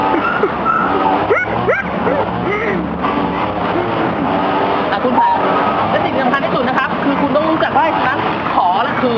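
A dog whimpers, yips and barks in loud, busy bursts while tugging on a toy during play in water, with someone talking over it throughout.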